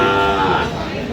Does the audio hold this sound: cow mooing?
yes